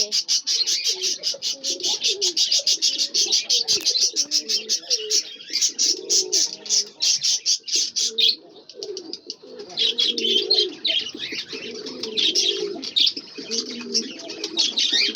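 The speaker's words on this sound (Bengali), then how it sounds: "এই পাখি জোড়া" A pair of pet pigeons coos in low, repeated rolls close by, over a constant high chirping of other birds that runs through the whole stretch.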